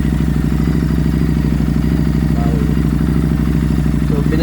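A Harley-Davidson Street 750 motorcycle engine with a spark plug problem idles steadily and loudly up close, its low throbbing pulse even throughout, with a voice speaking briefly over it.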